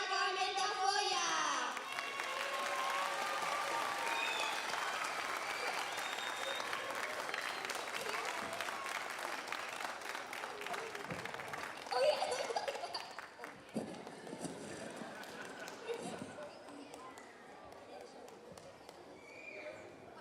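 An audience at a Texas State College of Education Tomas Rivera Book Award ceremony applauds in a dense, sustained wash of clapping that thins and fades toward the end, with some crowd noise mixed in.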